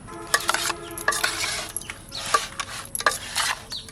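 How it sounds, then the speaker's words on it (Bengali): River fish being mixed with spices in a bowl using a spoon, giving a series of close scraping, clinking stirs in irregular bursts, with no talking. "এই চামচ দিয়ে মেখে নিচ্ছি"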